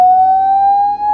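A loud, steady, piercing electronic tone from a phone's speaker-cleaning feature, one unbroken pitch held with a bright edge, close and without talk.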